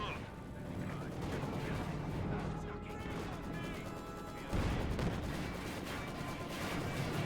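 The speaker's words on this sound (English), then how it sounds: "Now the Katyusha barrage here." A Katyusha rocket barrage in Company of Heroes 2 pounds a battlefield with dense, continuous rumbling explosions and crackling impacts, a louder burst landing midway through, amid ongoing game combat noise.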